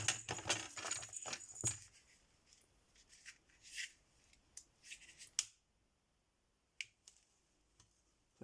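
Scissors snipping through a paper card close by in a run of quick crisp cuts, then a pause and a few isolated soft clicks.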